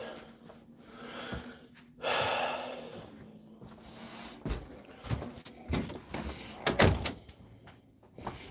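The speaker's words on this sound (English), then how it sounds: "Shut my door." A car door is shut on a freezing 6° night during a pizza run, giving a firm thump amid handling noise, breathing and small clatters close by.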